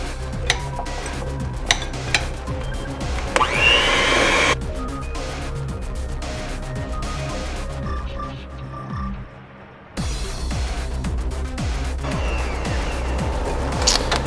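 Mashed potatoes with warmed cream and butter being beaten hard in a pot, rapid clattering and scraping strokes with a brief pause near the end, loud and close, with speech at times.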